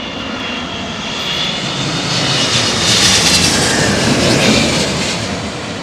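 A jet airliner comes in to land in strong gusting wind at Heathrow Airport, a steady loud engine roar swelling as it passes close overhead, wind buffeting throughout.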